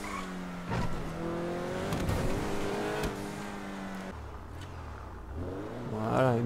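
Small motorcycle engine in GTA Vice City Remastered revving and droning with shifting pitch as it accelerates and eases off, fairly close and steady throughout.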